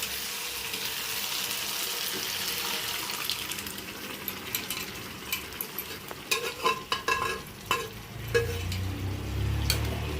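Cooked dal is poured into a pan of fried vegetables and stirred, giving a soft sizzle followed by wet sloshing, spoon scrapes and clinks, close and moderately loud, with a low bubbling rumble near the end.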